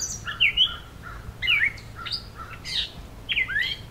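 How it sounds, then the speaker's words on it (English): An American crow calls somewhere behind the listener in a Southern Ontario summer soundscape: a run of short, harsh calls in loose bursts, mixed with other birds, over a steady low background hum. "Hearing a crow just behind me."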